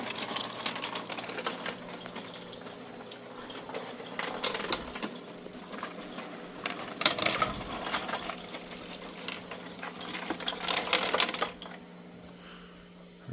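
Spolar hull feeder on a Power Load Gold Premier shotshell reloader feeding .410 shells, giving a steady run of close, rapid clicking and rattling plastic hulls over a constant motor hum, with a few louder clattering bursts.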